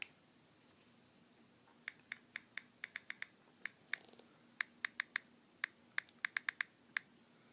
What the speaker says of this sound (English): So just gonna quickly type that in